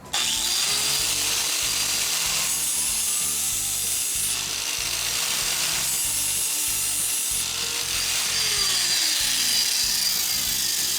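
An All American sharpener grinder runs steadily and loudly for the whole stretch, a continuous whirring grind with a rough scraping texture and no talk.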